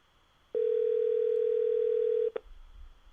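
A steady telephone dial tone holds for nearly two seconds, loud and close, then cuts off with a brief click into low background hiss.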